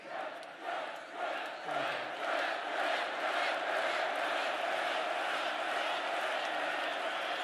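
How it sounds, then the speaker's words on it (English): A large crowd at a Trump campaign rally in Pennsylvania cheers and shouts, building over the first seconds into a loud, sustained roar with no individual voice standing out. "This is a feisty little crowd, isn't it?"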